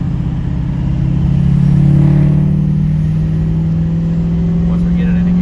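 A diesel truck engine fitted with a replacement injector and FICM harness drones loudly and steadily up close, swelling slightly as it revs while driving.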